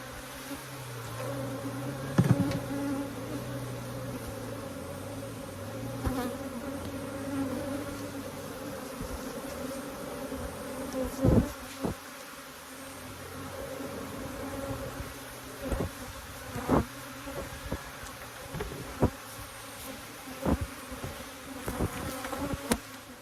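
Honey bees buzz around their hives in a dense, steady drone, with individual bees flying close past the listener now and then, and a few soft knocks under the swarm.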